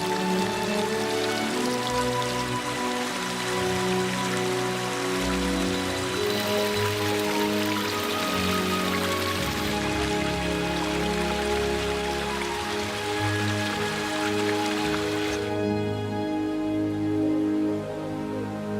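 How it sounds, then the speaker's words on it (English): Rain patters steadily in a forest while rain-fed streams and waterfalls rush in the background, a continuous, moderately loud wash of water with no voices. "The streams fill with rainwater and bring a magical touch to the forest with numerous waterfalls."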